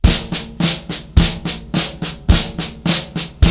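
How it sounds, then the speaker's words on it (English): Rapid, steady snare drum flam taps in continuous sixteenth notes, crisp and close, with accented strokes recurring in a repeating pattern. "2-bar pattern, entirely 16th notes, flam taps the whole time."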